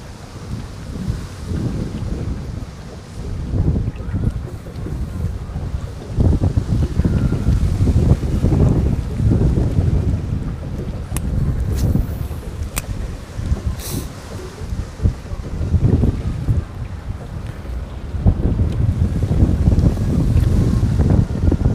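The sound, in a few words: wind blowing on a lake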